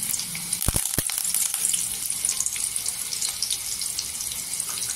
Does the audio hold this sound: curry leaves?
yes